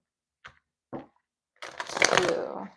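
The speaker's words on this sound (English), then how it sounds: "Give me 2 more shuffles." Tarot cards are shuffled in two short riffle bursts followed by a longer, louder run of riffling and riffling-together, close up with no voices.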